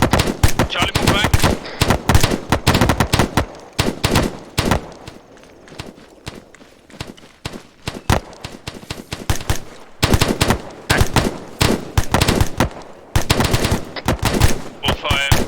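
Machine guns rattle in ArmA 3 during infantry section training, with long loud bursts of rapid automatic fire that pause briefly and then resume in dense volleys.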